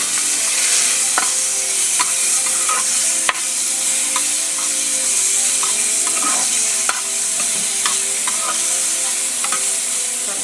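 Vegetables sauté in a hot pan, giving a loud, steady sizzle with occasional scraping clicks from stirring, and no voices.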